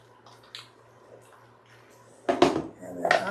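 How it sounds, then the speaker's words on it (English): A spoon stirs chicken bacon ranch pasta in a pot, giving a few soft wet scrapes and clinks near the end of a quiet stretch, with a faint hum underneath. "I'm going to stir it up"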